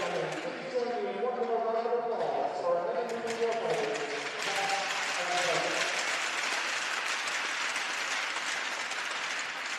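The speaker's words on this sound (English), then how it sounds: "please join me in one more round of applause for our men and women warfighters, past and present." A hockey arena crowd applauds military veterans. An amplified voice rings out over the public address at first, then broad, sustained clapping swells and fills the rink.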